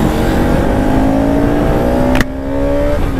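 Motorcycle ridden hard, engine revving high and climbing steadily in pitch, loud and close, then a sharp crack and a brief dip before it pulls again; no talking.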